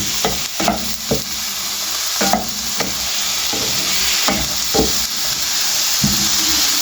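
Chicken keema frying in a pan with vegetables and finely chopped green chillies: a loud, close, continuous sizzle with regular scraping and stirring strokes from a spatula, and no voices.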